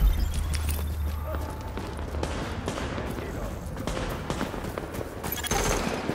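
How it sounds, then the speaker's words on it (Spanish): Small-arms gunfire rattles in the video game The Division, with continuous overlapping shots and a distant firefight texture under voices speaking through the steady noise. "Fuego de armas ligeras."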